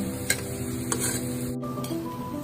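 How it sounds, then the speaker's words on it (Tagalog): Shrimp heads sautéing and being crushed in a pan for pesto shrimp pasta, giving a steady close sizzle with a few light stirring scrapes and clinks. "Sa akin, ginisa ko na lang at dinurog-durog ng bahagya yung ulo ng hipon."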